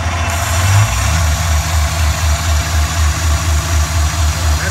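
A supercharged Honda J35 V6 runs rough without its idle air control valve, a loud, steady low engine drone with a pulsing, uneven beat.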